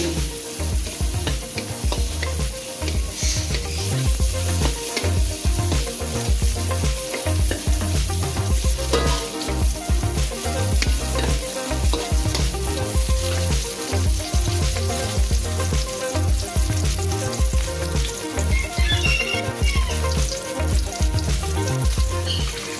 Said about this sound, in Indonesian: Kemudian kita masukin daun bawang yang udah kita iris tadi, lalu kita oseng-oseng kembali.